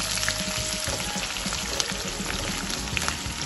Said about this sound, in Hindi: प्याज को हमें हल्का सा सौते करना है।